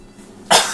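A single short, sharp cough bursts out near the end after a quiet moment, close and fairly loud.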